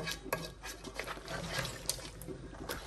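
Mutton biryani is mixed in a cooking pot, with soft scraping and clinking of a spoon against the metal and faint wet stirring, quiet and close.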